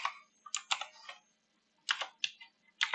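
Keys tap out code on a computer keyboard in two quick bursts of clicks with a pause between, close and fairly quiet, no voices.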